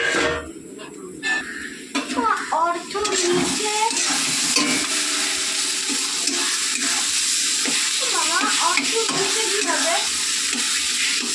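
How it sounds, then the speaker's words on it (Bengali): Meat frying in a pan while being stirred gives a steady, close sizzle with scraping stirs throughout, and voices talk over it at times. "তো চলো আমি মাংসটা বসিয়ে দিই।"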